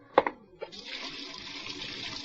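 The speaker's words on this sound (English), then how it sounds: "Look, Curly. Hot water. Now, that's hot" Hot water gushing from a tap in a radio drama, a couple of sharp knocks and a handle turn followed by a steady hissing stream that keeps running to the end.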